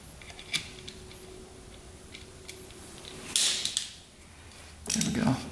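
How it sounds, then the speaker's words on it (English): A screwdriver works against the cam chain tensioner on a rebuilt street-legal dirt bike engine, giving scattered faint mechanical clicks and creaks, then two brief louder metallic scraping bursts near the end. "Stick a screwdriver in there, release the tension"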